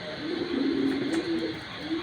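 A foreign racer pigeon coos in a long, low, throaty warble that trembles on and off, close by and fairly loud.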